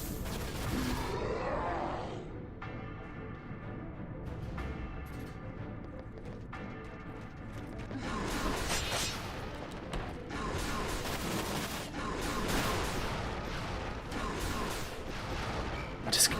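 Gunfire in the video game Dirge of Cerberus: Final Fantasy VII, dense bursts of rapid shots and mechanical clatter with booming impacts, continuous and loud, under layered game effects.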